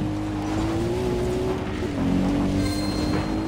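Video game car engine roaring at full throttle in Far Cry 3, a steady loud drone holding pitch with a slight rise near the end, tire noise mixed in, no talk.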